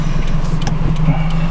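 A Subaru BRZ/FR-S with a Corsa exhaust runs as a low, steady exhaust rumble, close and fairly loud, for a short moment with no speech.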